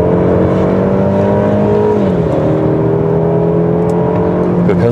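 Car engine accelerating hard around a track with the transmission in its sportiest Sport Plus mode, a steady loud drone whose pitch climbs, dips at a gear change around two seconds, then rises again.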